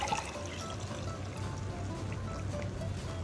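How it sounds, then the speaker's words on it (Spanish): Vegetable broth being poured from a cup into a pan of mushroom risotto made with dried mushrooms, a soft, close trickling pour over quiet background hiss. "ahora vamos a agregar una taza de caldo de verduras que preparé previamente"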